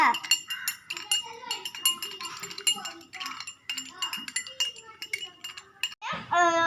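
Light clinks and scrapes from paint being stirred into water inside a glass for a children's experiment, repeated small taps close by while a person talks over them.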